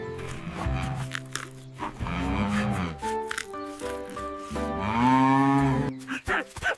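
A cartoon cow moos in long, drawn-out calls, two main lowing notes that rise and fall, loud and close, with scattered clicks and small noises between them.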